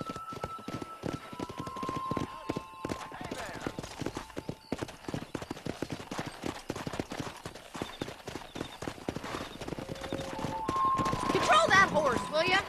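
Horse hooves clip-clop steadily in Red Dead Redemption, a rhythmic run of hoofbeats through the stretch, with game dialogue, a whinny-like tone and a louder, busier swell of sound near the end.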